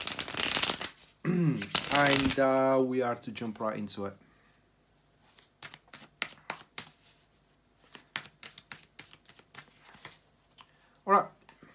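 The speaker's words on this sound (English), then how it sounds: "here to shuffle the tarot cards" A person speaks briefly, then a deck of tarot cards is shuffled with rapid papery riffles and soft flicking bursts, close and fairly quiet.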